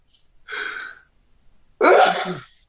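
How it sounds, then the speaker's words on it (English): Two sneezes in a row, close up during a live sports broadcast: a first sharp burst, a short pause, then a second, louder sneeze. "I was waiting for the second sneeze."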